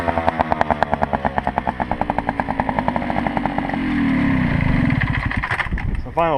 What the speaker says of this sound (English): Give it one last rev.